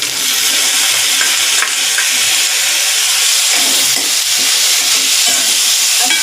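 Tomatoes added to frying okra in a pan sizzle loudly and steadily, with scattered stirring scrapes and taps over the continuous close frying hiss.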